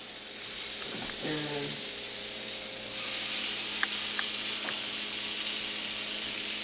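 Plantain balls (bolon de verde) frying in butter in a pan give a steady close sizzling hiss that grows louder partway through, with a few brief clinks and faint talk in the background.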